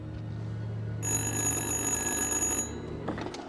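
An in-game telephone rings in the horror game Little Hope, a bright electronic trill sounding close and clear for about one and a half seconds over a low ambient hum.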